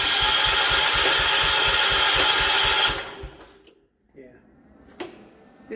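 A 1979 John Deere 216 lawn tractor engine cranks with a fast, even chugging rhythm for about three seconds, then cuts out without catching, leaving a quiet pause with faint clunks.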